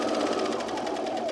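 A sewing machine stitches a seam on a pair of pants in one short, fast, even burst of rapid needle strokes, close and steady, with no talk over it.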